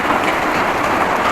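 Steady rain falls on a rural village plot, a dense, even hiss of drops with no breaks and no voices.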